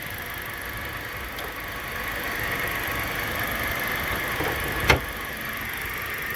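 A small four-cylinder car engine idles with the hood open, a steady close hum with a faint whine in it and a brief tap near the end.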